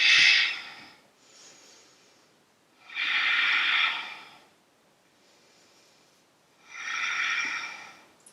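Slow, deep yoga breaths during a seated twist: three long, soft, hissing exhales spaced evenly, each with a faint inhale between them, close and quiet with no talking.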